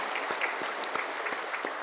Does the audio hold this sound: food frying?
no